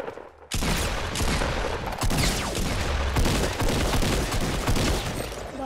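Pump shotgun fire during a Fortnite battle royale match, sounding as dense, loud gunfire with repeated sharp blasts over a constant roar of game noise, close and continuous from start to finish.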